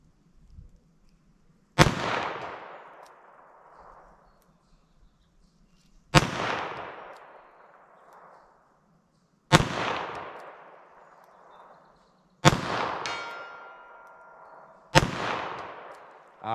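.38 Short Colt revolver rounds fired at a target: five sharp, loud shots spaced a few seconds apart, each with a short echoing decay, and no talking.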